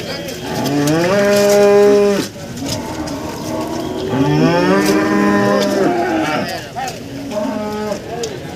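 Loud, drawn-out moos from agitated cattle ring out in a series of long bellows, close and insistent, with faint background clatter between calls.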